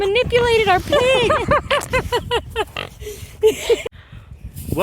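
Pig on a small homestead oinking and grunting in a rapid run of squeals and snorts, close and loud, with people's voices mixed in around it.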